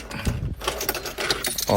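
A bunch of car keys for a Ford EcoSport jangles close by in a few quick metallic rattles and clinks, with a louder shake at the end and no talking.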